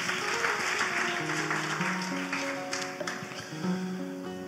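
An audience at an awards ceremony applauds the number of young people trained, with steady clapping running under sustained musical tones that shift pitch throughout, at a moderate, even level.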